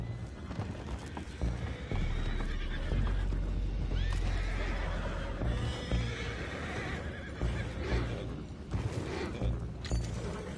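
Horses neigh and whinny in a Wild West video game, with hooves clip-clopping and mechanical creaks over a dense, busy background; no talk.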